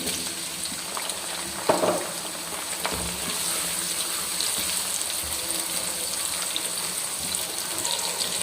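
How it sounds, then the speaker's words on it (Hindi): Onions and tomatoes fry in hot oil for a village-style chicken jalfrezi rice, giving a steady, hissing sizzle like running water throughout, with a brief louder clatter near the start. "ऑयल हमारे पास गर्म है। सबसे पहले हम प्याज डाल देंगे"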